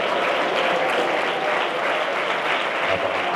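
Church congregation clapping hands during an evening fasting prayer service, a steady, dense wash of applause sustained throughout without pause.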